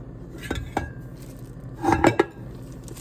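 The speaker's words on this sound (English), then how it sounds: "I've got the spatula, so that's what I'll use here." A spatula scrapes and knocks against a bowl while mixing chocolate chip cookie dough, with two dull thumps early and a cluster of clinks later over a quiet background.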